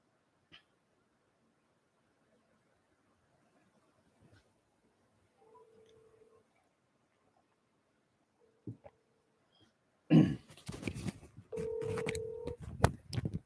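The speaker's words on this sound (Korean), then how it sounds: "전화를 연결 중에 있습니다" Telephone tones sound while a call is connected: scattered faint clicks and short steady tones, then a louder burst of dial and ring tones with line noise near the end.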